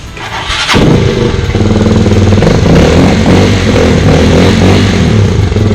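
A Rusi Flash GP150Fi fuel-injected motorcycle, just fitted with a new starter-motor carbon brush, cranks briefly and fires up, then settles into a loud, steady, close idle with a rough rhythmic pulse.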